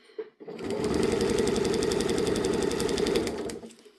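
A sewing machine stitches lines across a scrappy fabric grid, running steadily for about three seconds with a fast, even needle rhythm, starting and stopping cleanly, close and alone without voices.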